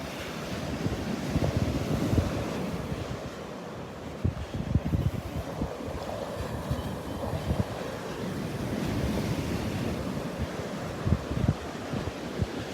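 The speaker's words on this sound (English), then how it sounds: "The sounds of the waves crashing." Ocean waves break and wash steadily onto a beach in North Naples, Florida, on a morning walk, a continuous broadband surf roar with wind buffeting the microphone and no voices.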